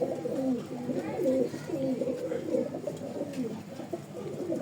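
Pet pigeons coo close by, a pair kept together, giving repeated low throaty burbling calls in a rolling rhythm, with faint background noise and no talking.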